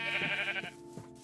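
Minecraft sheep bleat in a video game: three short wavering bleats in quick succession, clear and close, with no talk over them.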